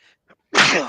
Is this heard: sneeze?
yes